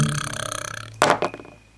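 A loud, close burp follows a low rattling buzz, with a couple of short sharp knocks trailing after it.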